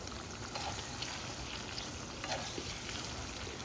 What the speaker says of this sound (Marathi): प्रथम तेल चांगलं तापवून घ्यायचं आहे आणि त्याच्यामध्ये अशा पद्धतीनं कांदा तळून घ्यायचा आहे